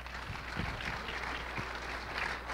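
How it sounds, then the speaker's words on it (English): Audience applause after a presentation on aquaponics farming at a club meeting, a steady wash of clapping from a room of people filling the short stretch without a break. "Come up, Pascal, with a big round of applause."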